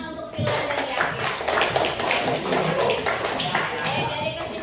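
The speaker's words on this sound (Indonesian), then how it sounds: "beri tepuk tangan untuk Filan dan Yahya" Classroom applause for two students, many hands clapping steadily and close by at a fairly loud, even level for several seconds.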